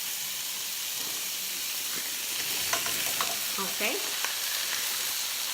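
Brussels sprouts hiss and sizzle steadily in a hot pan, a continuous broadband frying noise with a few brief clinks and stirring sounds, and one short spoken word near the start.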